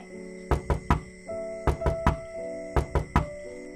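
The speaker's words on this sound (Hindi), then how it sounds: "उसे गेट बजाने की आवाज़ आती है।" Cartoon knocking on a gate: three groups of sharp, loud raps, each a quick cluster of three knocks, spaced evenly over a sustained tonal background with no talk.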